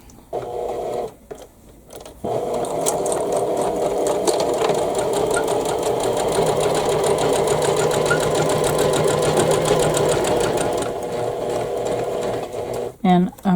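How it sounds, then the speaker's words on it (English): A sewing machine stitches a seam on a Cathedral Window quilt block in a steady, rapid mechanical run lasting about eight seconds. Brief handling noises come before and after it, and a voice speaks over parts of it. "we're going to put this under the sewing machine and stitch this seam."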